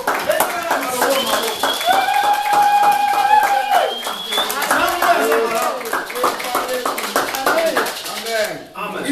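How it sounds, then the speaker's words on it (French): A church congregation clapping together in acclamation, steady rhythmic applause from many hands carrying on for several seconds, loud and close, mixed with voices and singing. "Ah, on acclame."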